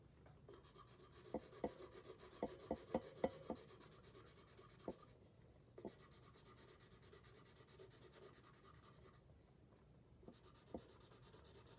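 Soft scratchy strokes of a colored pencil on paper, with a quicker run of light taps and scrapes early on, then sparser strokes, close and quiet.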